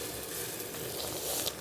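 Coriander leaf pakoras, shaped long and thin, fry in hot oil with a steady, close sizzle and faint crackle that runs without break.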